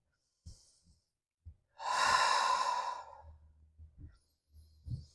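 A deep breath during a yoga practice: one long, close, audible breath lasting about a second, framed by soft shuffling and quiet movement sounds before and after.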